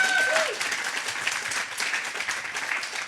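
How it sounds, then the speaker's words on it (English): Sustained audience clapping fills the whole stretch, a dense, even wash of many hands at steady loudness, opening with a brief whistle over it, in an Aussie Rules footy show setting. "That's where you can clap"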